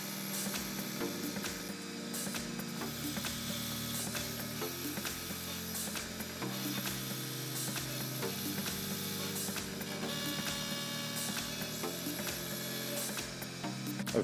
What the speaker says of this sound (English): loosen jam bolts, adjust angle, check results.